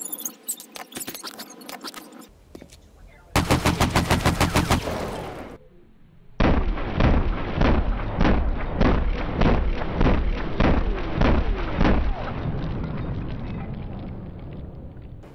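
Rapid automatic gunfire in a shooting video game's training arena, loud bursts of evenly spaced shots with short pauses between them, the last stretch fading into a dense rattling tail.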